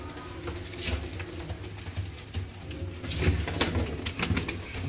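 Teddy pigeons in a loft coo in low, repeated throaty calls at close range, with soft fluttering and pattering movements mixed in against a busy background.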